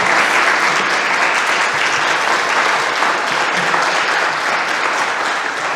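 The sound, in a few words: audience applause after a talk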